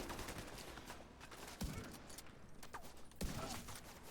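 Gunfire in The Division 2 on the Capitol legendary mission, a steady crackle of automatic shots with a couple of sharper heavy reports, fairly faint and distant-sounding.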